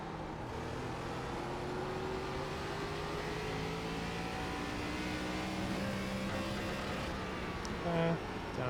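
An ARCA stock car engine in the iRacing sim drones steadily as it accelerates, its pitch climbing gradually over several seconds, loud and continuous with no voices.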